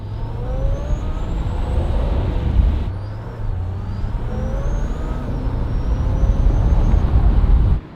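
A supercharged 2020 Shelby GT500 engine in quiet mode drones steadily at low revs under heavy throttle in a higher gear, deep and rumbling with a rising whine on top, continuous and fairly loud, cutting off at the end.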